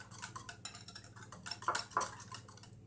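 Cream for a cinnamon tart stirred in a bowl, with quiet rapid scraping and light clinks of the utensil against the bowl in an uneven rhythm, close and without speech.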